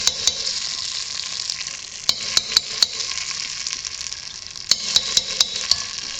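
Tomato paste stirred into cooking lentils in a pot, a soft steady sizzle with a spoon scraping and tapping the pot in scattered knocks.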